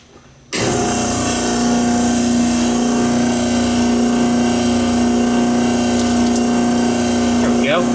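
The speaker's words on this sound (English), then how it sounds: "Start the pump." A pump kicks on abruptly and then runs at a steady, loud drone with a strong constant tone, feeding a flow of cleaning liquid while a large Caterpillar generator's crankcase is washed out.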